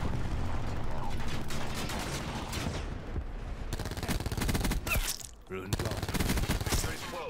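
Call of Duty Black Ops 4 gameplay brings dense, loud automatic gunfire in rapid bursts with mechanical clatter. There is a brief lull near the middle, and then the shooting resumes. Voices talk underneath.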